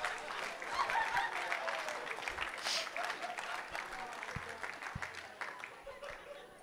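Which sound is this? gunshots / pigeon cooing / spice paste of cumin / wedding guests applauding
wedding guests applauding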